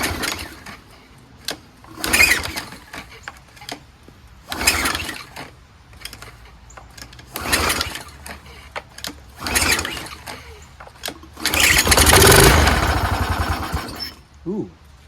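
Troy-Bilt pressure washer engine fitted with a replacement carburetor and a weak throttle spring, giving several short pull-start sputters, then a louder burst of running that quickly dies out.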